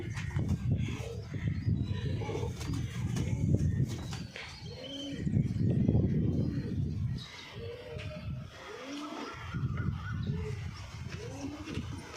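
Pigeons in a loft cooing softly in repeated low murmuring phrases, several birds overlapping over a rustling, shuffling background, fairly close and moderately quiet.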